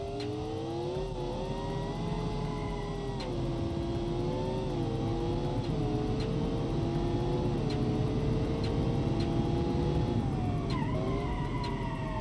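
Hot Wheels car driven in BeamNG.Drive, its engine droning steadily throughout with whining harmonics that rise and fall as it shifts and revs, loud and continuous with no talk.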